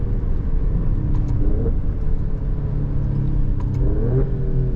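An Alfa Romeo Stelvio Quadrifoglio SUV accelerating hard on a race track, its engine droning loud and steady from inside the cabin, pitch rising through the gears with brief shift dips.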